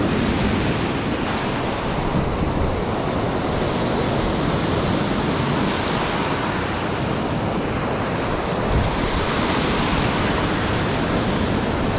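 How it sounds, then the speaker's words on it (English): Ocean waves washing onto a rocky beach, a loud, continuous roaring surf with broad rushing noise and slight swells, with no voices over it. "Now that I'm here, it seems like the waves just picked up."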